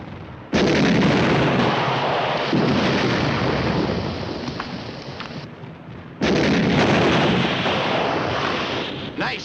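Two heavy booms from a tank gun firing high-explosive rounds in a war film's battle scene, each a sudden loud blast followed by a long rumbling decay, spaced several seconds apart.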